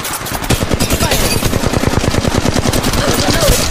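Loud, rapid automatic machine gun fire from a squad shooter video game. A dense, steady stream of close shots runs through the whole stretch without a break.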